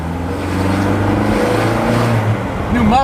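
A 1962 Mercedes-Benz 190SL Roadster on the move, its engine droning steadily and then dropping in pitch as a gear change comes through, close and loud, with a short burst of talk near the end.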